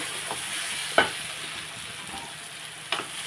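A spoon stirs a brinjal and mango curry in a pan over a soft steady sizzle, with a couple of sharp scrapes against the pan, close up and without talk.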